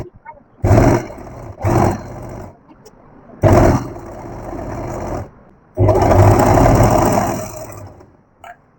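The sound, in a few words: sewing machine stitching doubled fabric strip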